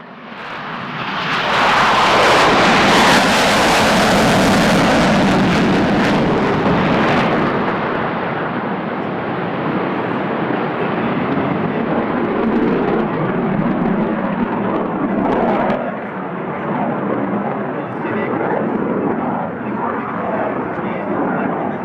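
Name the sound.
F-111 jet aircraft flying display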